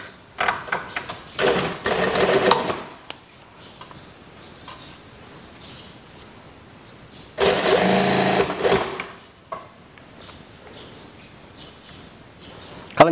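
Sewing machine stitching a pleated sleeve cuff in two loud bursts of rapid running stitches, one near the start and one midway, with quiet handling and soft talk between.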